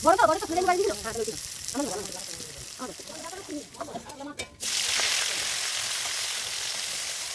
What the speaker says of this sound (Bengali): আর আমি বেশি তেল দিয়ে দিই একবারে ভাজাটা ভালো হয়ে যায়